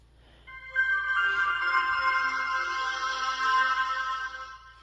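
A Blue Diva 2.4 mobile phone plays its startup jingle, a bright, layered electronic chime that swells after a short pause. It rings steadily for several seconds, close and clear, with no talking.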